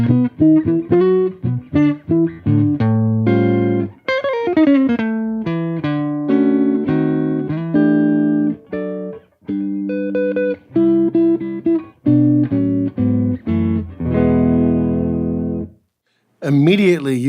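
A Rickenbacker electric guitar plays through a clean Showtime '64 tube amp plugin, with bright, quick melodic runs and chords ringing for most of the clip before a short pause and a final strum.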